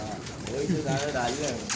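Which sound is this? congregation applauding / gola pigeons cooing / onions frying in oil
gola pigeons cooing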